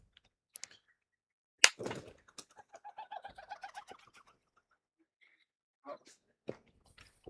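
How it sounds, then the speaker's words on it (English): Pigeons feeding on grass seed at a football pitch give a short run of soft cooing notes after a sharp knock, with faint scattered clicks and distant voices in quiet surroundings. "birds have come down for their grass seed today."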